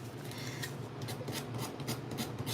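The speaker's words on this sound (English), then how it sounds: "you're just gonna keep sanding it" Worn sandpaper rubs back and forth across an acrylic blank in a series of close, raspy strokes with a steady, repeating rhythm and no talking.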